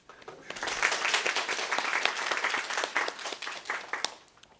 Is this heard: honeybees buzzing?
no